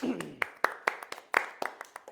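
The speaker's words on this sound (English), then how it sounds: "Let us applaud them all" Sparse, faint hand claps from a small audience at a historical reenactment event with the Marquis de Lafayette, scattered irregularly with a voice briefly audible at the start.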